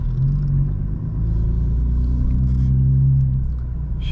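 Steady, loud engine rumble from a tuned 900-horsepower 2025 BMW M4 Competition cruising at sunset near North Atlanta, heard from inside the cabin, with a deep continuous drone that swells slightly midway.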